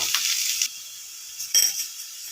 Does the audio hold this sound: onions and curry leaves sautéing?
yes